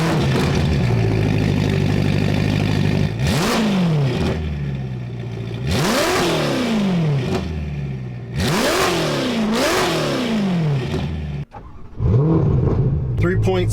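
A Ferrari Roma's 3.9-liter twin-turbo V8 with a Novitec exhaust revs hard in repeated rising and falling blips from close inside the car, with crackles between pulls and a voice talking over it.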